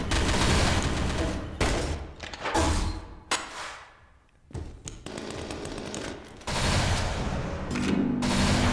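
Rapid bursts of automatic gunfire from the video game Pixel Gun 3D come in loud dense volleys, broken by a short quiet gap before the shooting resumes.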